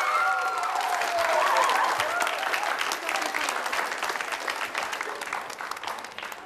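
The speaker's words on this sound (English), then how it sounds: "big round of applause for them" An audience applauds a group just introduced on stage, a dense, continuous roar of clapping that stays loud throughout and tapers only slightly toward the end.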